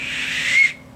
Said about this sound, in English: And then a whistle.